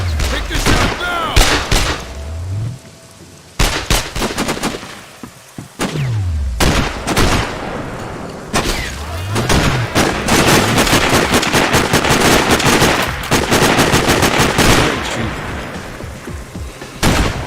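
Loud gunfire in the Sniper Ghost Warrior video game: heavy booming shots and sustained automatic bursts repeat across the stretch, separated by brief quieter gaps.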